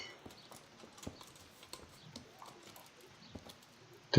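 Horse hooves clip-clop in the medieval video game Kingdom Come: Deliverance, a faint, uneven patter of hoof strikes over quiet ambient background, with a louder knock at the very end.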